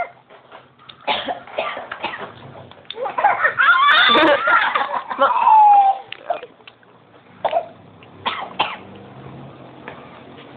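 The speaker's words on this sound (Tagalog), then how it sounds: "Ubo si mama na. Ubo." A run of coughs and throaty, laugh-like bursts, loudest in the middle, with quieter coughs again near the end; no clear speech.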